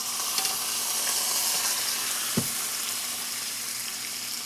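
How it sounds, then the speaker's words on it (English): Chuck steak slid into a hot oiled Instant Pot sizzles steadily and loudly, a dense broadband hiss of frying fat and moisture with one soft thump of the meat landing midway, no voices. "it's going to sizzle when I slide it in because of the moisture"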